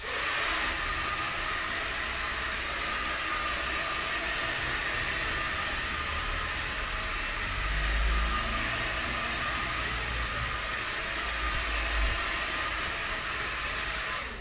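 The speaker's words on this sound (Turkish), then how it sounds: "Fönünüzü alın. Fönünüzü açın ilk önce." A hair dryer blows continuously during a number 3 haircut, a steady airy whoosh with a low motor hum that runs unbroken for about fourteen seconds, close and moderately loud with no talking.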